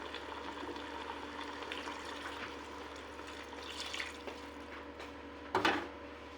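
Water pours steadily into a cooking pot of chicken tashreeb stew made with tomato paste and spices, a soft continuous liquid splash with a brief louder gush near the end, no talking.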